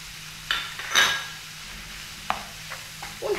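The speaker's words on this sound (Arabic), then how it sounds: "ونحرك مزيان حتى يندمجوا العناصر كاملين المكونات، ونخليوه يطيب صافي" A utensil stirs crepe filling in a sizzling pan, giving a few sharp scraping strokes and clinks spaced over a low, steady fry.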